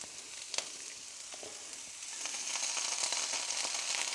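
Tomato paste sizzling as it goes into a hot pan of chicken and sweetcorn lasagne sauce, a steady close frying crackle that swells slightly louder partway through, with no talk.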